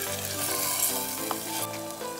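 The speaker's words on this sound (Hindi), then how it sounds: "2 मिनट इसको मैंने भून लिया" Mustard greens (saag) sauté in a pan with a steady close sizzle, while a sustained tonal hum runs underneath.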